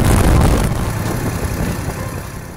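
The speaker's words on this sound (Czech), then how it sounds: "Při snížení už to bylo lepší a turbulence šly někam na hrudník, což je slyšitelné i na kameře v tomto záběru" Wind turbulence buffets a motorcycle rider's helmet and chest, a loud broadband roar over engine drone that eases slightly after the first half-second and stays constant to the end.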